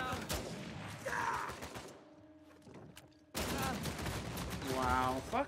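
Rapid blind-fire gunshots from a gun in the video game Uncharted 4, a dense burst of loud cracks that stops briefly and then resumes, with game sounds and talk mixed in.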